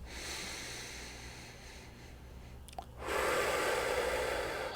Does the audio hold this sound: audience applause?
no